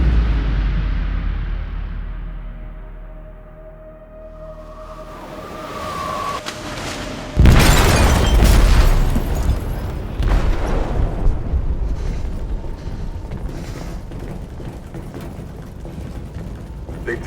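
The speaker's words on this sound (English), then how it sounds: "They detonated an explosive in the hold." A deep booming explosion in the hold of a ship in Detroit: Become Human sets off a loud, sustained rumble with grinding, creaking metal and debris as the ship begins to sink, preceded by a low droning hum.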